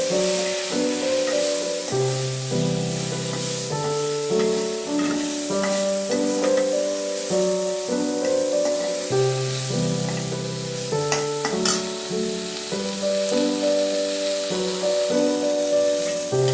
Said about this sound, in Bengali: এবার বেগুনে আমি লবণ হলুদ একটু মাখিয়ে নিয়ে ভেজে নেব।